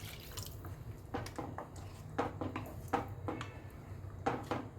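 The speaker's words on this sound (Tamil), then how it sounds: "பட்டாணி வந்து பச்சை பட்டாணினால இப்போ வேகணும், அதுக்காக கொஞ்சமாக தண்ணி ஊற்றி நம்ம வேக வச்சுக்கலாம்" Water trickles and drips into a pan of green peas being cooked for a potato-peas kurma, with a steady low simmering hum underneath and several short splashy bursts; no one speaks.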